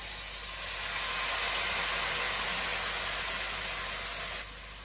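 Chopped tomato and spices frying in a pan, a steady broadband sizzle and hiss that holds evenly for several seconds before easing slightly at the end, with no voices.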